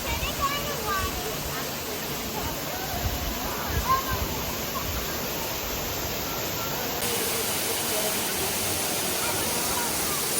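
Annandale waterfall rushing in a steady, loud roar of falling water that continues unbroken throughout.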